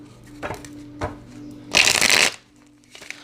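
Tarot cards being shuffled by hand: a few soft taps and flicks, then a loud, dense riffling burst of about half a second, close up in a quiet room with a low hum.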